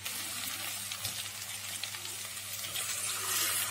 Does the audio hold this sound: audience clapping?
no